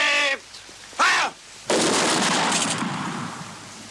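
A firing-squad volley in the WWII drama series Secret Army: two sharp shouted commands, then a single loud, near burst of massed rifle fire that rings out and decays over about two seconds.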